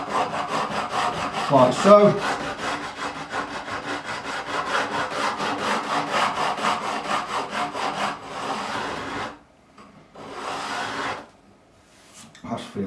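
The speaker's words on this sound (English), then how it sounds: "I'm going to use my straight edge coarse file. I'm going to do it all by hand" Guitar fret edges on a Telecaster neck filed by hand with a coarse straight-edge file, making rapid, rhythmic rasping strokes that run steadily, pause, then resume in a short burst, with someone speaking briefly.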